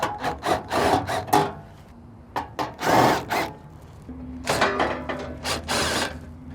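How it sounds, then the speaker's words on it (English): Screws are being removed from the hopper side panel of a Camp Chef XXL Pro pellet grill. There are close, short grinding and rubbing bursts in an uneven rhythm, with brief pauses between turns. "First thing we need to do is access our hopper side panel by taking off these 6 screws."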